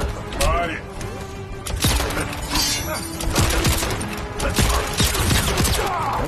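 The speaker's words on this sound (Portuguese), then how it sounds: "é tiro pra todo lado" Gunfire from the video game Robocop 2 comes as dense, continuous rapid shots and crashes, loud and busy, with a person talking over it.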